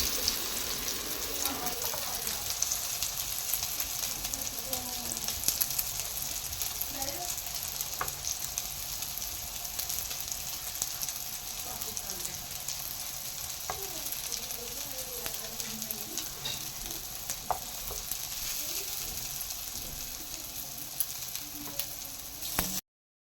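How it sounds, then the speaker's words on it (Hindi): Chicken chapli kababs, a reshmi or malai style, fry in a pan with a steady, dense sizzle that holds evenly throughout, with faint scraping and clicking underneath. "सारे कबाबों को मैंने फ्राई कर लिया"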